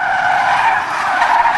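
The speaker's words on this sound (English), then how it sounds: "Drifting's fun." A drifting car's tires skid and screech in one loud, close, sustained squeal, alone without talk.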